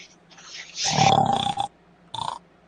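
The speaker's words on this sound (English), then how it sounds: "you hear the sounds of guttural snoring." Deep guttural snoring rumbles in a tabletop role-playing scene: one long rattling, throaty snore and then a shorter one, loud and close, with no talk over it.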